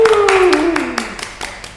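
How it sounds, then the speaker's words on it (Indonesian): An audience at a discussion event gives a short burst of applause, with a handful of separate, fairly close claps in a loose rhythm and a voice sounding briefly at the start. "tepuk tangan dulu dong"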